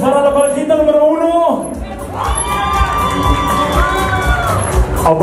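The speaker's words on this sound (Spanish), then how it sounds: "Aplausos para la parejita número 1" At a norteña music dance contest in Fort Worth, Texas, a crowd cheers, whoops and shouts for the first competing couple. Loud, excited voices swell throughout, and a few sustained yells stand out over the din.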